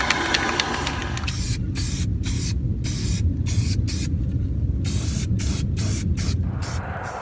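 Primer is sprayed onto equipment during rust treatment, giving a loud, steady hiss broken by short bursts and brief pauses as the trigger is released and pressed again.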